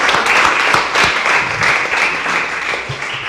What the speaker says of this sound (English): I'll give you a round of applause for that.